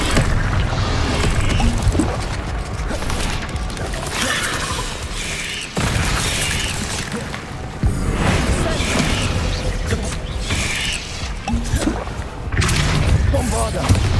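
Magical blasting spells from Hogwarts Legacy gameplay burst repeatedly in loud, booming, crashing explosions over a busy game soundscape, with a voice shouting spell names between blasts.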